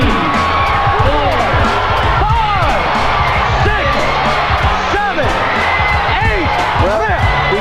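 Boxing arena crowd in Trenton roaring after a knockdown, a loud sustained swell of cheering, whoops and shouts with rising and falling voices, while a commentator talks over it.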